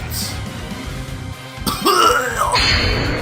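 A couple of rough, strained coughs and throat-clearing sounds, close up, followed by a pained groan.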